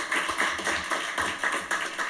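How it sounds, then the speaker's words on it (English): An awards ceremony crowd claps for shortlisted road safety initiatives, a light rhythmic patter of hands that pulses in a soft, fairly even beat, with no voices over it. "a huge round of applause for all our short-listed initiatives"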